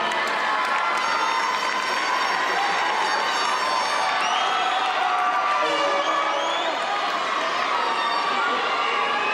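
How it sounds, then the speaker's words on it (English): An audience at a high school graduation cheers and claps continuously, a dense, steady wash of applause mixed with whoops and shouts throughout. "And you will give them a big round of applause."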